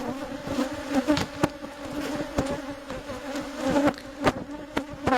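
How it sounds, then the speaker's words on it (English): Dense, agitated buzzing of many defensive bees close by at an opened top bar hive in Uganda during a honey harvest, a continuous drone with sharper surges as insects pass near. "the bees are really swarming around the veil because they're attracted by the breath of the beekeeper"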